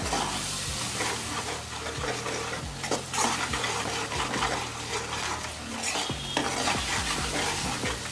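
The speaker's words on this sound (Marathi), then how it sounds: "तर याला तेलात चांगलं तेल सुटेपर्यंत परतून घ्यायचंय." Kolhapuri masala sautés in oil with a continuous sizzle while a spoon scrapes and stirs in repeated strokes. A steady low hum sits beneath the cooking sounds.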